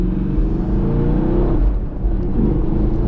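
Engine of a car blipping up during a rev-matched downshift, a loud close rumbling rev that swells and eases over a few seconds with no talk.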